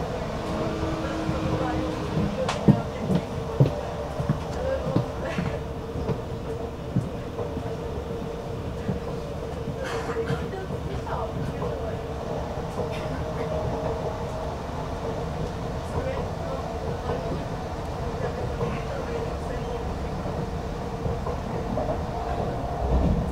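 Commuter train in the Warsaw area running between Modlin and Toruńska, giving a steady close rumble and rail noise with occasional faint clacks, heard from inside a carriage throughout.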